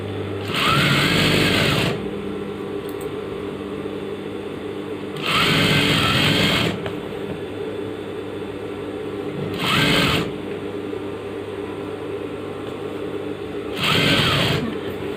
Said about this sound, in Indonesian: baru kalian jahit ini, baru kalian obras lagi